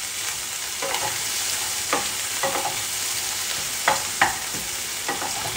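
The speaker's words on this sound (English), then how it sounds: "I'm going to stir it a little bit." Onions fry in a pan with a constant, close sizzle, while a utensil stirs them in several soft scraping strokes that punctuate the hiss at irregular moments.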